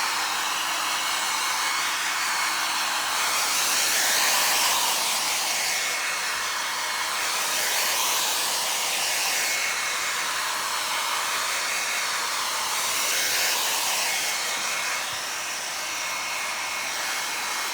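A hair dryer blows steadily across coloured leather upholstery in pleats and piping on a Riley Pathfinder, a continuous loud whoosh that wavers slightly in pitch as it is moved, with no talking.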